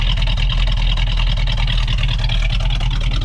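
A 1970 Dodge Challenger R/T with a 440 Six Pack V8 idles close by, a loud, deep, rumbling exhaust with a steady lopey pulse of cylinder firings throughout.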